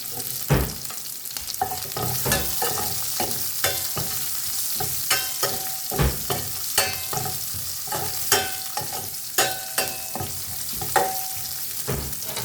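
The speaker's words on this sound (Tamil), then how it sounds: "வெங்காயம் போடுறோம்." Onions fry in a pan under a constant sizzle, broken by repeated sharp scrapes and knocks from a stirring spoon at an irregular pace.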